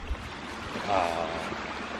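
A small, clear mountain river runs over rocks at a crossing point, giving a steady close-up rush and gurgle throughout, with a brief voice-like murmur in the middle.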